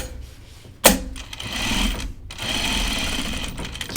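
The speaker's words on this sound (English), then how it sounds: "I'm going to stitch it to this piece right here." A sewing machine stitches a jacket piece in fast, rattling runs, starting with a sharp clack and then buzzing steadily through two bursts close by.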